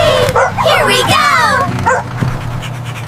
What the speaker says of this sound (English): The dogs on the animals bus go woof, woof, woof